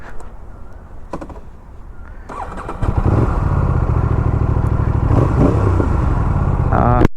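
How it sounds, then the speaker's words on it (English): A motorcycle fitted with a custom exhaust and a dB killer starts with a few clattering sounds, then settles into a loud, steady, close-up running rumble that lasts for several seconds. "In this video you will also get a demo how this bike sounds with the DB killer."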